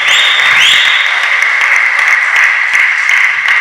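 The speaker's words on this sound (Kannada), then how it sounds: "ಎಲ್ಲ ಆಟಗಾರರು ಒಮ್ಮೆ ಒಮ್ಮತ್ತಲ್ಲಿ ಚಪ್ಪಾಳೆಯನ್ನ ಕೊಡುವ ಮುಖಾಂತರ ಇವತ್ತಿನ ಕಾರ್ಯಕ್ರಮಕ್ಕೆ ನಾವು ಚಾಲನೆ ನೀಡೋಣ" Badminton players at a tournament opening applaud together, giving a sustained burst of clapping with a steady tonal ring behind it.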